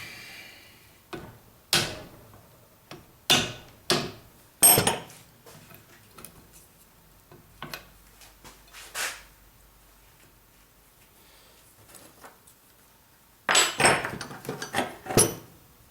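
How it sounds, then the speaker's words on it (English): Sharp metallic taps from a safety hammer on transfer case parts during gear prep, a handful of scattered strikes with quiet gaps, then a quick cluster of knocks near the end. "And with the safety hammer"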